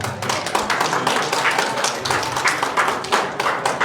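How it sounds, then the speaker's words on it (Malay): Audience applause at a company gathering in Penang, a dense, steady round of clapping from many hands throughout, with no voices over it. "Satu tepukan untuk diri tuan-tuan"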